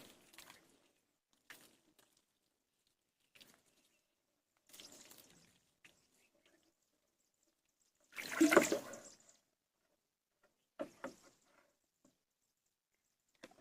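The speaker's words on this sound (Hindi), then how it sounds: "इसको पहले हम धो देंगे अच्छे से।" A wooden stick being washed with water in a farm setting before stirring a jeevamrut mix, with scattered faint splashes and drips and one louder, longer splash in the middle.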